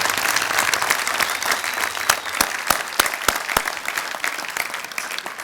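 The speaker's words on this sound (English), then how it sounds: "Let's give all of our winners a round of applause this evening." An audience at an alumni awards evening applauds the winners, a sustained wash of clapping with sharp, distinct individual claps popping out nearby throughout.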